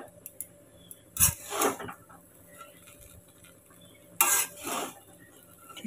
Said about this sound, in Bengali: ঠিক করে নাড়তে পারছি না তো, কড়াইটা পুরো ভরে গেছে চিড়েটা।